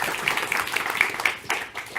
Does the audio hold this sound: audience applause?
yes